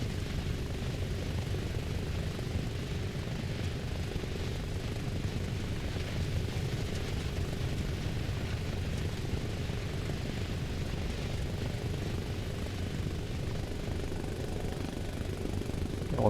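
AH-6 helicopter in Arma Reforger building up airspeed, a steady loud rotor and engine drone holding constant throughout with no breaks.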